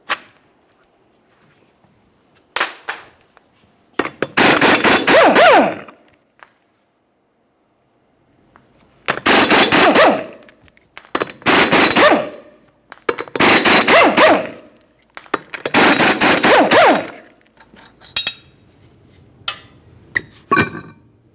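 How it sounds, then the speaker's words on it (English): Five loud, rattling bursts of an impact wrench spin off the 21mm lug nuts on the rear wheel of a 2012-2018 Nissan Altima, each lasting one to two seconds and separated by short quiet gaps. "we'll continue on to removing all 5 of our 21mm lug nuts and then the wheel"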